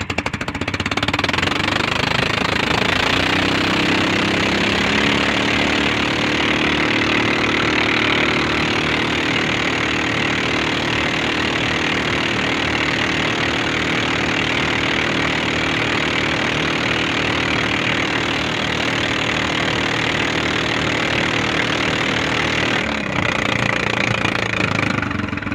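A fishing boat's engine is revved hard, giving a loud, rough, continuous mechanical roar that holds for the whole stretch with only slight shifts in pitch and no talk.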